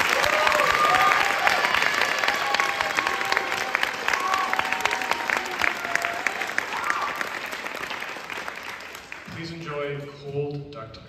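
An audience at a high school jazz band spring concert applauds loudly with a few cheers, welcoming a student teacher to conduct. The clapping fades after several seconds, and a voice then speaks close to the microphone.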